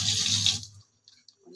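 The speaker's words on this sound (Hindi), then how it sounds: "हम इसमें डालेंगे पानी" Water pours into a pan of roasting mixture in a kitchen, a loud splashing rush that stops abruptly partway through, followed by faint small clinks.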